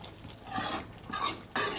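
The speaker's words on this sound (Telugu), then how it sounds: "సో కొత్తిమీరని వేసేసి కొంచెంగా కలిపేసేయాలండి, కొద్దిగా కలుపుకోవాలి." A spoon stirs coriander leaves through chicken curry in a pot, giving a few soft scraping and clinking strokes with a faint sizzle underneath, close and fairly quiet.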